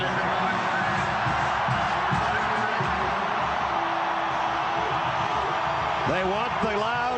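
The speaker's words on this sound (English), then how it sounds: "They've got the loud crowd." Loud home football crowd in a Tennessee stadium, a dense, continuous roar with whoops and cheers, with a commentator talking over it.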